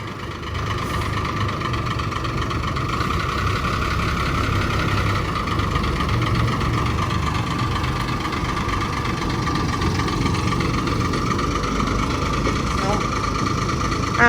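An antique car engine idles with a steady low rumble and a faint whine. The sound is continuous and close, with no clear change in pace.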